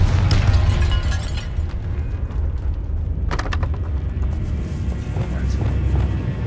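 A Confringo fire-blast spell cast in the video game Hogwarts Legacy, inside a tomb, booms out as a sustained low rumble with a sharp burst near the middle, over a continuous bed of game ambience.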